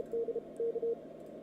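Morse code on amateur radio: a single steady tone keys out short and longer beeps in two quick bursts over faint radio hiss, with no speech.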